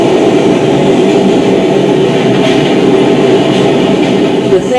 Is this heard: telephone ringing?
no